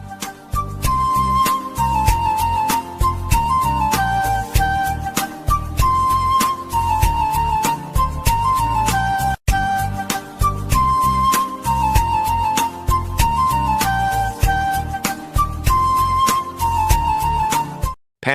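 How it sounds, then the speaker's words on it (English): Lemon phone ringtone: a bright, repeating electronic melody with a plucky, looping beat, loud and clear, playing two full cycles back to back. "Lemon ringtone zings with sour fun."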